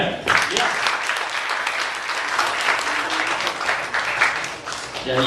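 Sustained audience applause for a stage performer at a fringe show, dense and steady clapping filling the room for several seconds with no talking over it.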